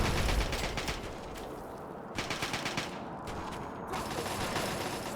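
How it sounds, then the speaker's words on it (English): Rapid bursts of automatic gunfire and explosive missile fire in the video game Fallout 3, loud and dense, breaking off briefly before resuming in sustained volleys. "Someone firing missiles at us."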